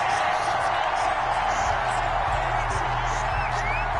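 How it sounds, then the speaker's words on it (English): Football crowd at an indoor NAL arena game reacts to a roughing-the-passer penalty with a steady, moderate roar and scattered whoops, while a commentator talks over it. "Well, this crowd does not like that call."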